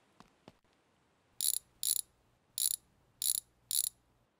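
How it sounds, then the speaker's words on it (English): A ratchet wrench is turned on a bolt in a home garage, making five short, sharp bursts of clicking at an even pace, close and fairly loud, after two faint taps at the start. "wrench, please"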